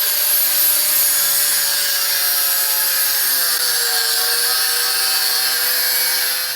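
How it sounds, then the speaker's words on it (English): An angle grinder cuts sheet metal for a radiator duct with a continuous high-pitched whine and gritty hiss that hold steady and loud, the tone dipping slightly under load partway through, with no speech. "Just gonna cut this with a grinder."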